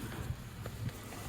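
Strong wind in a Boston blizzard during a severe winter storm, a steady low roaring rumble buffeting the microphone throughout, loud and continuous with no voices.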